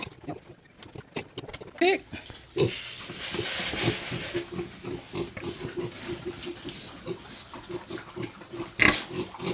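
Piglets on a pig farm, being given feed supplement ahead of sale, squeal and grunt in short bursts with a couple of sharper louder squeals, heard under a person speaking throughout.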